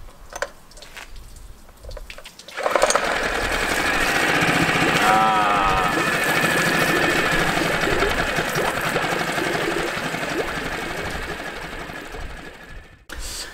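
A freshly overhauled outboard motor is pulled to start, then catches and runs continuously at a loud, steady rapid buzz after a brief quiet lead-in, cutting out near the end.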